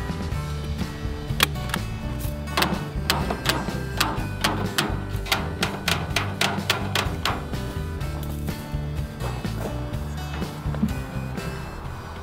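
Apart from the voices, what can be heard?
staple gun tacking hardware cloth to a planter box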